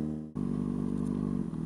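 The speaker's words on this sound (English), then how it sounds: "Sweet exhaust note." A sport motorcycle engine idles loud and close, a deep throbbing exhaust note with a steady pulsing rumble.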